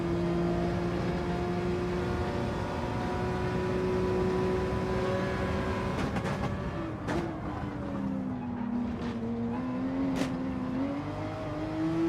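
A Porsche race car engine lapping a track in Gran Turismo 7, a steady loud drone that rises and falls with gear changes and revving, with no talk over it.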